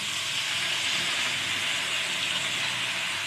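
Two handfuls of curry leaves sauté in a pan with oil, coriander powder and chillies, giving a loud, unbroken hiss at close range with no talking.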